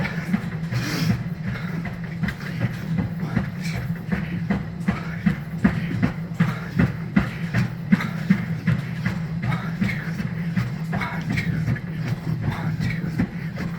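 Steady rhythmic footfalls on a treadmill during a walk-run workout, with regular thuds and a continuous low belt and motor hum, close and moderately loud throughout.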